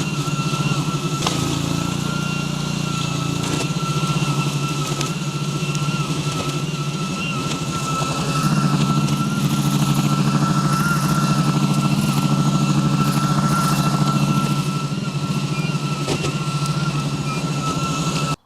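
An AS Motor OVIS remote-controlled tracked flail mower runs continuously while clearing ground, its engine a loud, steady drone with a gritty rumble that holds for the whole stretch.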